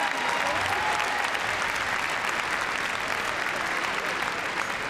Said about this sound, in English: Go on, give her a big round of applause.